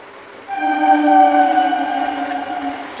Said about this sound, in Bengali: ট্রেন যাচ্ছে, ট্রেন দৌড়াচ্ছে